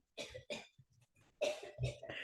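A person coughs during a prayer session: two sharp, loud coughs, a stretch of faint throaty sounds, then two more strong coughs, all close and clear with no talking.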